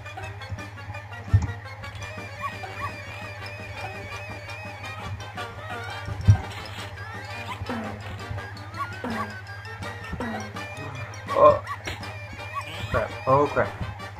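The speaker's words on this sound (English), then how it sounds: "I can hear that puppy." Puppies in the video game Don't Drop The Puppy give short yips and barks, scattered and fairly faint over a steady low game hum, with a few louder bursts near the end.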